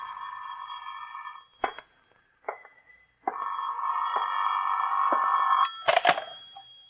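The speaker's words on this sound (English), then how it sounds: "Phone's ringing" A telephone rings in long electronic trills in an old suspense radio drama, broken by brief gaps and a couple of sharp knocks, then resumes ringing steadily.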